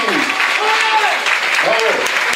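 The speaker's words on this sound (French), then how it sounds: "Allez, coup d'envoi. On applaudit." A crowd claps steadily at the kickoff of a charity football match in the rain, with voices calling out over the sustained applause.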